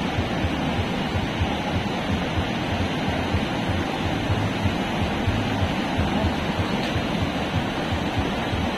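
River water flows in a steady, continuous broadband rush, close and fairly loud, with no voices over it.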